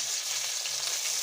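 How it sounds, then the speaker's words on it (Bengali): Chicken pieces frying and being turned over in a large new kadai wok for chicken chow mein, giving a steady, close, continuous sizzle with no voices. "এইভাবে উল্টে পাল্টে আমি আস্তে আস্তে চিকেনগুলো ভেজে নেব।"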